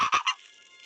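A crow caws in the Granny horror video game, a short harsh burst of two or three quick, loud rasping calls close up, then fading out with no talk over it.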